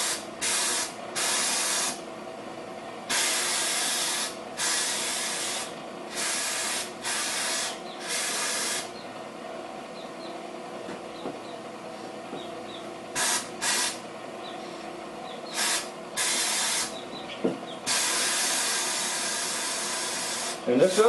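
Glass is etched with an air-powered abrasive sprayer fed by piped-in air, its loud broadband hiss coming in repeated bursts of one to three seconds separated by short pauses.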